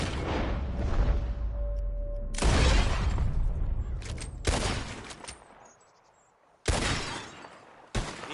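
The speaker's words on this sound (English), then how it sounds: "Whoever shoots more of these bottles wins." Gunshots firing at bottles in Red Dead Redemption 2, several loud, separate cracks spaced a second or two apart, each with a brief rattling tail and quiet gaps between.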